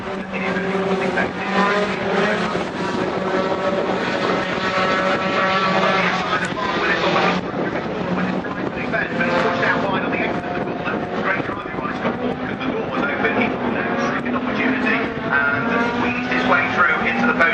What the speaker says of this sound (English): He will now set his sights about the number 74 truck in the hands of Paul Poulter as they propel themselves down the Cooper Straight